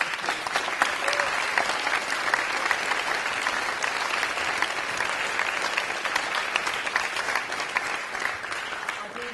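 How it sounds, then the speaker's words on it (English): Steady, dense applause from a large audience thanking community college district figures at an evening festival event at the Mondavi Center, sustained and even for the whole stretch, with no voices standing out. "So can we give them a round of applause?"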